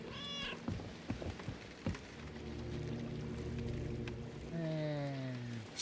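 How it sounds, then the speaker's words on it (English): A cat meows twice, clear and close, one call at the start and a longer drawn-out cry near the end, over a steady low rumble and scattered knocks. "that is a cat."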